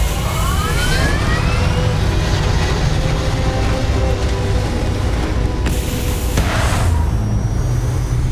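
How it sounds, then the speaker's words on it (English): Spaceship engines fire in Starfield with a loud, sustained roaring rumble, a steady dense wash that swells with rising whooshing tones and brief bursts near the end, no voices. "Engines fire."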